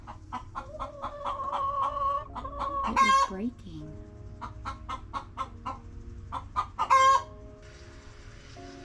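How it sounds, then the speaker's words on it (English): Several chickens cluck and squawk close by in a busy, overlapping chatter, with a person briefly speaking among them. "Chickens don't like change."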